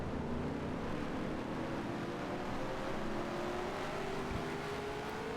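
Race cars in the video game NASCAR Racing 2003 roar past in a continuous engine drone, pitch slowly climbing, with noisy track rumble and no talk.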